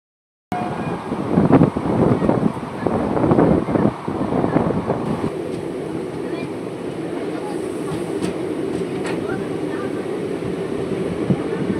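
A passenger train on the Chowrigacha to Azimganj line, heard from inside with rumbling wheels and rattling carriage noise, louder and choppier at first, then settling into a steady, even running roar.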